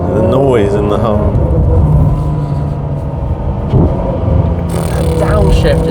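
Ferrari 599 GTO V12 engine winding down through gears on the road, a loud continuous rumble with rising and falling pitch sweeps, heard from inside the car while people talk over it.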